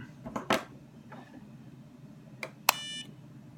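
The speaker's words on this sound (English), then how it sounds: "Now the beeping comes in when you actually mount it back in." An Innokin Z Biip AIO vape kit gives a short, bright electronic beep as its pod is mounted back in, preceded by a few soft clicks and handling taps in a quiet room.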